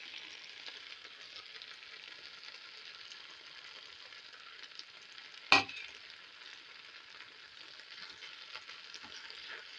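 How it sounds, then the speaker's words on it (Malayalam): Grated coconut stirred into wheat dumplings cooking in a pan, a steady soft sizzle and scrape with one sharp clank of the spoon midway, no voices. "തേങ്ങ ഇട്ടിട്ട് തേങ്ങ ഇട്ട് നന്നായി ഇളക്കി കൊടുക്കുക."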